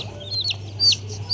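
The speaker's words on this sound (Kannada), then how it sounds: "ಕಲರ್ ಕೋಳಿ ತಗೊಬಂದವ್ರು ನಮಗೆ." Colored chickens clucking close by in a home, a few short high-pitched clucks and squawks over a low steady hum, with no talking.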